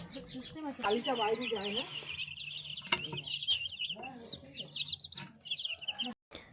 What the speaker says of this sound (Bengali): মুরগির বাচ্চাগুলো কিচিরমিচির করে ডেকে যাচ্ছে।